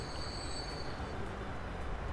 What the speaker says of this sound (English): Look at all the trains.